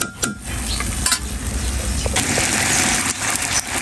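Potatoes sautéed and stirred in a pan, close sizzling with a few sharp scraping strokes of a spatula against the pan over a low rumbling background.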